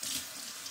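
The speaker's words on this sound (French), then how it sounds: "je vais rincer ma cuillère" Tap water runs steadily onto a spoon being rinsed under a kitchen faucet, a continuous close hiss and splash with no talking.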